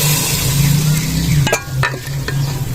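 Hot tempering poured into a pot of Bangladeshi dal, giving a steady close frying sizzle with a few sharp clinks of a utensil midway, no talk.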